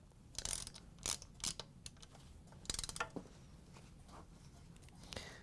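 A ratchet fitted with a large Phillips driver tightens screws on a KitchenAid stand mixer during a worm gear and bracket replacement, giving faint, irregular bursts of quick clicking.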